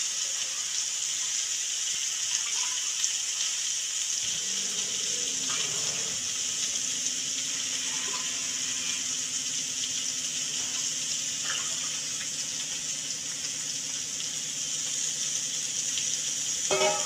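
Coconut milk poured into a pot of soaked rice, a steady, close liquid pour and gurgle running continuously, with a slight change in tone partway through and no talking.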